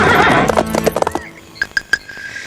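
A horse neighs loudly near the start, followed by quick clip-clopping hoofbeats as riders gallop off in a Robin Hood forest chase scene, the hooves thinning to a few distinct strikes.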